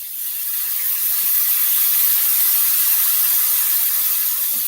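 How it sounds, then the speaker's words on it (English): Balsamic vinegar hitting hot sautéed kale in a pan, giving a loud, steady hiss of sizzling and evaporating liquid that holds without a break for several seconds. "I'm going to pour balsamic vinegar on here. It will get sizzly"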